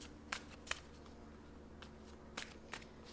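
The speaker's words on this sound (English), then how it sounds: "I shuffled these off camera and on camera." Soft, sparse riffling of tarot cards being shuffled, a few brief flicks over a quiet background.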